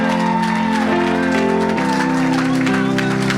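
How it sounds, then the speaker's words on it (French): A crowd at a French-language evangelistic church service shouts and cheers loudly over sustained music, a dense continuous roar of voices with held chordal tones underneath. "Donne une grande acclamation à Jésus."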